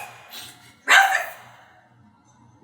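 A dog gives a single sharp bark that rises suddenly out of a quiet background, preceded by a faint softer yip.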